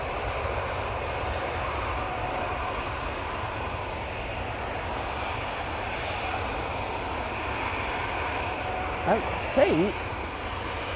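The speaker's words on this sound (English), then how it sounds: "Next in will be the Lufthansa A321 coming from Frankfurt." A Lufthansa Airbus A321 arriving from Frankfurt at windy Manchester Airport makes a steady distant jet rumble mixed with wind noise, with a few brief words spoken near the end.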